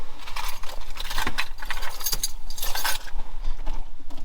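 A bunch of car keys jangles and clinks continuously for several seconds, close up, as someone rummages for the keys to a 2003 Chevrolet Monte Carlo SS.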